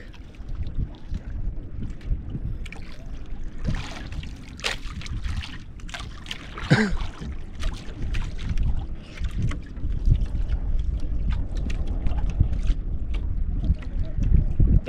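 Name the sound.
boat passing on water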